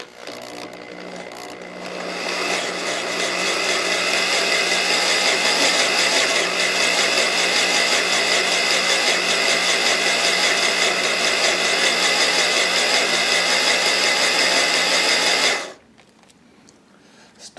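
Annular cutter drilling into an oversized gun barrel, a steady loud mechanical whine with dense harmonics that runs continuously for about fourteen seconds, then cuts off abruptly leaving a quiet workshop.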